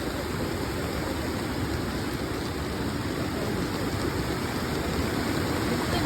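Floodwater rushing through a swollen creek at Panibasan, Purok Singko, a steady, dense roar of turbulent flow that holds constant throughout, close and fairly loud with no voices over it.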